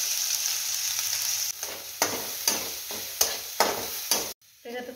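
Cumin, mustard seeds and a ground paste fry in hot oil for an eggplant dish, with a steady bright sizzle broken by several sharp stirring scrapes and a sudden drop as the paste goes in near the end.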